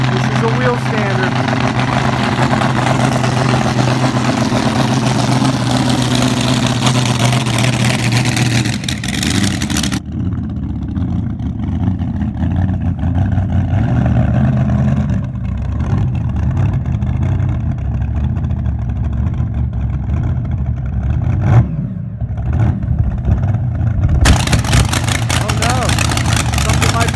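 A wheelstander drag race car idles and revs loudly while warming up its tires at Bakersfield Famoso Raceway, a continuous roaring engine with shifting pitch that drops back partway through, with an announcer talking over it.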